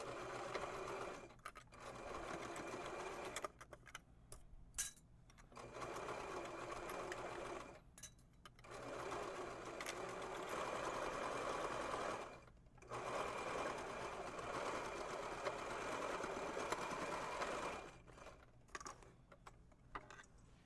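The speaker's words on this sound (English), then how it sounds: "do a straight stitch along the entire hem" Straight stitching along a dress hem on a sewing machine, the close motor whirring in long continuous runs broken by several brief pauses.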